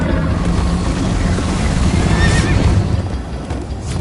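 A horse neighs while galloping in the video game Minecraft Story Mode, a loud, dense rush of hoofbeats and rumbling noise running throughout, with a brief whinny near the middle.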